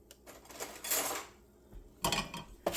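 A metal fork scraping and clinking against a pan while separating sticky candied nuts on the stovetop, several short scratchy bursts with brief pauses between them, close and fairly quiet.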